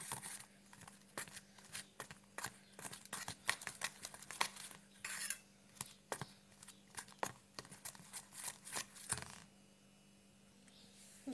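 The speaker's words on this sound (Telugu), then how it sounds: "బ్యాటర్ దగ్గరికి బజ్జీలు వేసుకునేలాగా అయ్యేంతవరకు వేసేసుకుంటూ కలుపుకోవాలి." A spoon stirs bajji batter in a bowl to work out the lumps, producing quick, irregular clinks and soft scraping taps close by at a low level.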